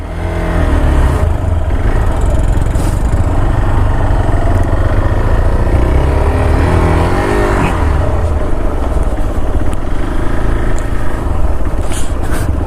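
Motorcycle riding off-road on a sandy forest road, its engine droning loud and steady throughout with rising revs and shifting pitch as the wheels slide side to side.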